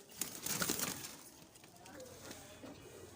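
A Khatang pigeon coos quietly at close range, soft repeated low calls with faint rustling between them.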